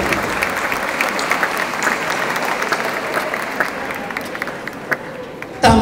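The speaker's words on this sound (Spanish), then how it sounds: "Fuertes aplausos, compañeros y compañeras." A crowd at a teachers' union gathering in Patzún applauds honoured teachers, loud sustained clapping with occasional sharper claps, ending in a brief louder burst.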